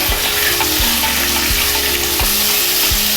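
Prawns sautéed with onions in a pan over medium flame for kolambi masala: a loud, steady sizzle close up, with soft regular thuds of stirring every second or so and no talk.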